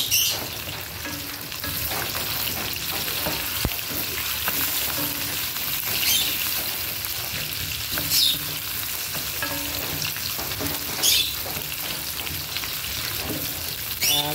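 Potatoes and carrots fry in a pan for pork caldereta, a loud, continuous close sizzle with occasional stirring scrapes and faint chirps behind it.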